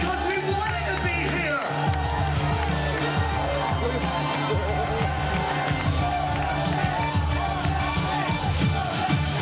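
A crowd at a celebration called the Gathering cheers and whoops loudly and continuously, a dense wall of voices with a person talking mixed in.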